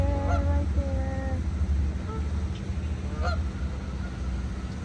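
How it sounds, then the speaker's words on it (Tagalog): Geese honk several times at Echo Park Lake, a few close bursts of nasal calls early on followed by a couple more, over a low steady background hum. "Nagkalat ang mga ganso dito guys."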